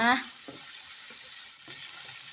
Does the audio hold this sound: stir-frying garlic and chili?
yes